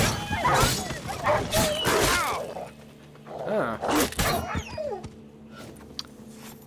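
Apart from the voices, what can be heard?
rabid dogs fighting and whimpering in video game The Witcher 3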